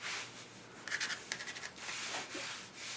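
A wooden cherry spice box being hand-sanded with 150 grit sandpaper: quiet, close scratchy rubbing in short back-and-forth strokes, with a brief pause between passes.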